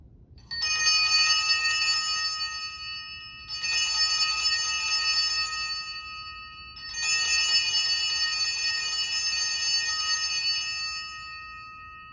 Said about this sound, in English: Halfway through the Mass, one of our jobs is to kneel down and ring a bell,